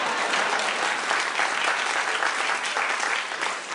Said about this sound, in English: I need a bigger round of applause for that.